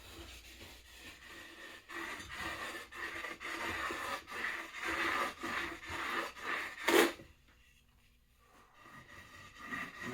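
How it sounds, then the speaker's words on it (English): A blunt, profiled wooden stick scrapes lightly across a deer hide being tanned, giving steady rasping, rubbing strokes close by that stop abruptly after a sharp burst, leaving near quiet. "I am going to use that profiled really blunt stick I was telling you about, and I'm just going to lightly do it here"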